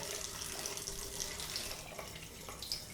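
Tap water runs steadily into a sink to rinse shaving soap off after a head shave, a close, continuous hissing splash for three seconds with no talk.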